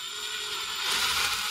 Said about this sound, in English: Hole to be drilled.